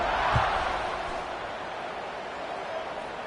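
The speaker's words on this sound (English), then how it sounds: "this crowd is buzzing after that last score" A stadium crowd at a college football game roars in a broad, steady wash of distant cheering and murmur, loud and continuous after a score.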